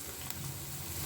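Milkfish innards (liver and intestines) drop into garlic frying in a pan, giving a steady, close sizzle with faint crackle and no voices.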